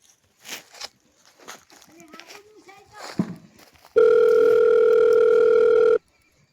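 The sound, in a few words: telephone ringing tone, call not answered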